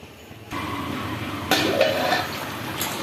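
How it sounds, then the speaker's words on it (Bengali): A lid clanks down onto a pot of hilsa and brinjal curry with potatoes, with a soft bump followed by a louder metal knock over a steady simmering hiss. "এবারে আমি এই তরকারিটা 5 মিনিটের জন্য ঢাকা দিয়ে দিলাম।"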